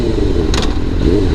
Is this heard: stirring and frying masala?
no